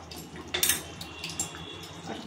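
Rose water is poured into a cooking pan where oil has separated, giving a brief, faint liquid splash with a few soft trickles. It sounds close and quiet, with no talk.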